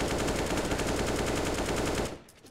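A sustained automatic rifle spray rips through a Counter-Strike match on the Mirage map, rapid loud shots in an unbroken burst for about two seconds before cutting off, heard alone.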